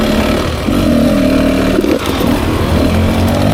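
A 2024 Beta 300 RR Race Edition two-stroke dirt bike engine pulls at low revs with a loud, close, steady rasping drone and a brief dip before resuming.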